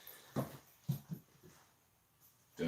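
A tiny dog makes a few short wheezy huffs and snorts close by, spaced irregularly with quiet gaps, ending in a louder burst.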